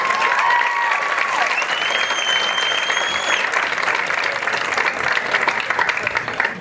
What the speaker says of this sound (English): it is very appropriate to cheer and applaud between each person